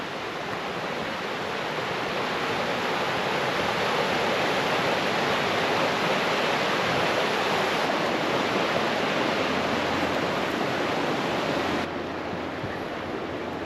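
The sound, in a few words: rushing water of a waterfall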